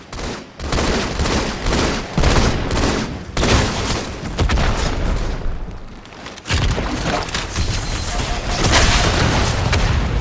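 Rockets launching and blasting in a multiplayer team shooter video game, a dense, continuous run of loud explosive booms and gunfire filling the whole stretch, with brief dips between volleys.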